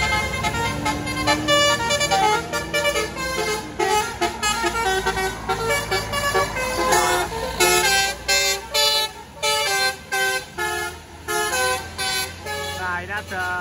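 A Trans Utama bus passing on the Pangandaran route sounds its telolet horn, a loud melodic series of rapid tonal toots repeating in bursts over traffic and engine rumble, with voices talking.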